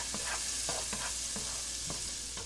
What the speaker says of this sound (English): Then you're going to go ahead and add your garlic and cook for about a minute more.